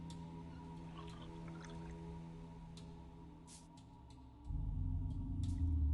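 Tea pours from a tea set in a mobile ghost-mystery game: a steady, fairly loud liquid rush starts late over quiet background music and a few soft chimes.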